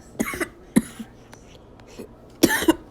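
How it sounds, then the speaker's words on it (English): A person coughs a few times, short dry bursts spread out with quiet gaps, the last pair louder, fairly close and with no talking. "I keep coughing."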